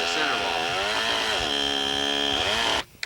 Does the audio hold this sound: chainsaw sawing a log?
yes